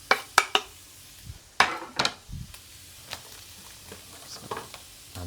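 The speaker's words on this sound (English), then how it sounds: "I'm going to add in the onion, and I'm also going to add a pinch of salt" Onion with a pinch of salt stirred in a hot pan, with sharp clinks of a utensil against the pan at the start, then a low, steady sizzle under occasional scraping stirs, close and fairly quiet.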